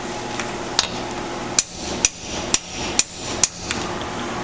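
A hammer taps a plug into the hydraulic pump of a Ford 641 tractor, seven or so crisp metallic strikes at an uneven, roughly half-second pace, close and loud over a constant background hum.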